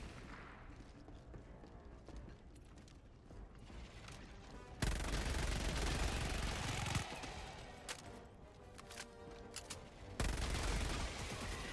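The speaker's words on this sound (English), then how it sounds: "the Gatling turret just shooting the ground" A Gatling turret in the Helldivers video game fires in sustained rapid bursts, a dense rattling fusillade that starts and stops abruptly, fairly faint overall under other game noise.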